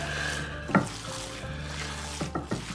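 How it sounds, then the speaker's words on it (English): Hands work a raw burger mixture of ground beef and bacon with jalapeno, onion and egg, giving soft, wet squishing and a few close, sharper squelches. "we're gonna mix our mixture together like this. Get it nice and incorporated together."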